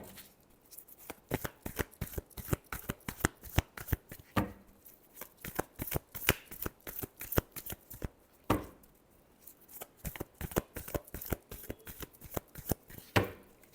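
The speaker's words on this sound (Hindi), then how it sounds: "last shuffle" Tarot cards shuffled by hand in a rapid, crisp riffling clatter that runs on steadily, with a few sharper slaps as the deck is squared, close and fairly quiet with no voices.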